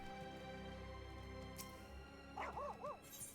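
Dog barking in the video game Final Fantasy XIV, a quick cluster of two or three yippy barks near the end, faint and over a low steady background hum.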